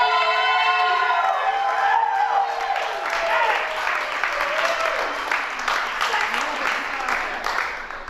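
A concert crowd at a benefit show at New Mountain claps and cheers, with whoops and shouts over dense applause, loud and continuous; a sustained note rings out at the start.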